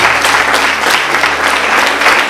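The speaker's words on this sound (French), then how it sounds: "on va vous accompagner sur des applaudissements" A dense wash of audience applause at a health conference, many hands clapping steadily and loudly with no voices over it.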